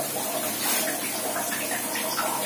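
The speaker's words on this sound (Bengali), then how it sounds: "একটুখানি গরম জল এখানে আমি দিয়ে দিলাম" Hot water being poured into a cup to make coffee, a steady close rushing splash of liquid lasting the whole moment, no talk heard.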